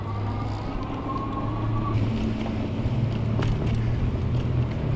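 An e-bike on Vee Tire E-Huntsman fat tires rolls along a street, heard as a steady low tire hum and road rumble under buffeting wind noise, with a faint whine early on.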